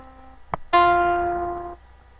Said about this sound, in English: So fourth would be up from C up to F.